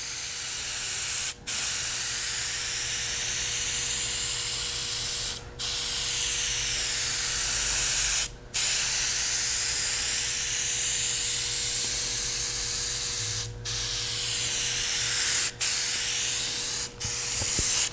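Spray gun laying a metal flake coat onto a fiberglass boat, a loud continuous hiss in long passes broken by several short pauses as the trigger is released, no voices.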